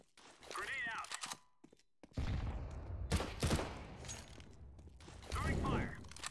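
Gunfire bursts in a Counter-Strike match on the de_mills map, loud crackling volleys with a sharp onset, broken by a short gap and mixed with faint game voice callouts.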